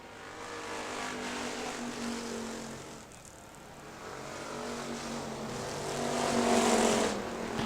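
Factory stock race cars roar around Hartford Speedway Park, engines droning at a distance, dipping briefly then swelling louder as the pack passes nearer, with no voices over it.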